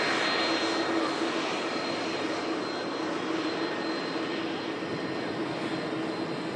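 A jet airliner climbing out from Manchester Airport, its engine roar a steady, broad, loud rumble that holds evenly throughout with no voices over it.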